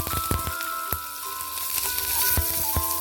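Shallots sizzle steadily in hot coconut oil in a frying pan, a loud continuous crackling fry with occasional sharper pops and stirring clicks, no talking.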